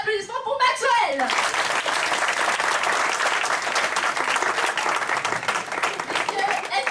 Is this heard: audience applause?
yes